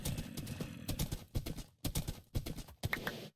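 Horses move around in the Minecraft game with quick, dry clip-clop hoof clicks in uneven bursts, fairly close and without any talk.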